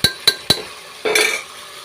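A utensil taps three times in quick succession against a pan holding a mushroom and pea mix with garam masala, followed by a brief scraping stir, close and clear with no voices.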